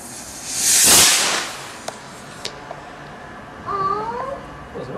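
A firework on bonfire night bursts with a loud whooshing blast, followed by a few sharp distant cracks and faint voices and cries in the background.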